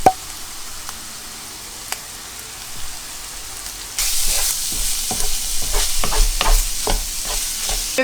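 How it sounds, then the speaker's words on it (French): Minced meat and onions sauté in a pan without spices, starting quiet and then breaking into a loud, dense crackling sizzle with scattered pops, close by and with no voices. "je vais faire revenir ma viande hachée avec les oignons sans aucun épice"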